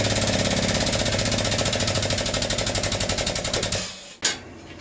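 Forging dies strike brass dress hooks in a blacksmith shop, a rapid, even pounding of mechanical blows that keeps going for several seconds before stopping, followed by a single sharp clank.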